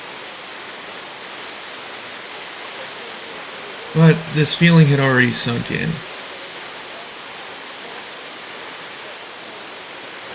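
A steady, broadband rushing roar of a waterfall fills the whole clip, with a person speaking briefly over it in the middle.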